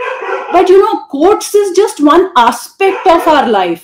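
Dogs bark and yip repeatedly in a short burst close by, mixed in with and partly under a person talking over them.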